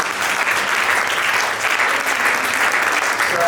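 A church congregation applauds and cheers for the Lord during a sermon at a seminar in Belgium, with steady dense clapping that fills the space continuously at close range.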